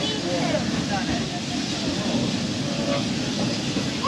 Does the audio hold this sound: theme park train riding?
yes